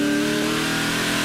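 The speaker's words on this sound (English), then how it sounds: "You can hear exactly what these engines sound like from the driver's perspective as they absolutely throttle that V8 monster machine for all it's worth" Onboard a Speedcar V8 race car at Bahrain in 2008, the engine roars at full throttle, loud, steady and dense throughout, with no voices.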